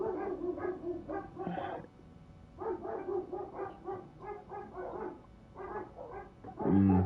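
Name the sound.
dogs barking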